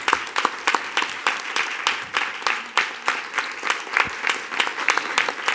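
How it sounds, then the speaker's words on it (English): An audience at a Duncanville ISD school board meeting applauds with steady, dense clapping that lasts throughout, close and moderately loud. "So let's give her a round of applause."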